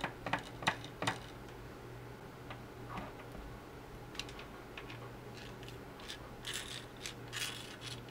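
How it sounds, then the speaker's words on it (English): An airsoft gearbox sits open with its gears turning, giving off light mechanical ticking and clicking with faint grinding over a low steady hum. The sound is quiet and close, with sharp clicks clustered at the start and a brief buzz later. "let the gears spin."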